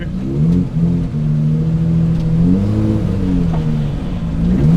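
A loud race car engine in track setup revs steadily, pitch rising and falling in waves as the throttle opens and eases, running continuously without pause.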